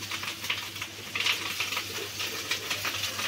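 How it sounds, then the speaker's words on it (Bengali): Fish roe frying in a pan gives off a steady hiss with irregular crackling pops, close and moderately quiet, alongside a low constant hum. "ডিম না দেখো ফোটে, একটু সাবধানে সাবধানে ভাজতে হয় এগুলো"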